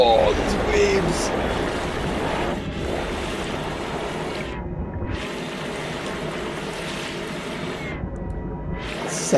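Rolling surf on a vast lake-like sea in the No Man's Sky video game roars almost continuously, broken by brief lulls as waves recede, with a constant low water rumble underneath.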